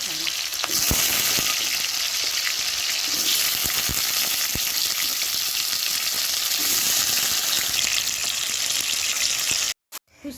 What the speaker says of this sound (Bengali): প্রথমে কড়াইতে তেল দিয়ে আলুগুলোকে একটু হলুদ দিয়ে ভালো করে লাল লাল করে ভেজে নেব